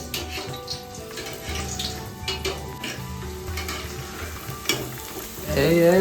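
Drumstick pieces frying in a pan for a pachadi, a steady sizzle with stirring scrapes and some watery bubbling that swells louder near the end, with no talking.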